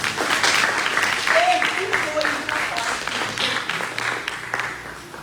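A church congregation clapping, a loud burst of many hands that slowly thins out, with a speaker's voice heard over it.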